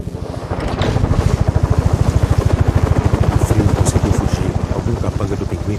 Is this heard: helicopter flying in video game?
yes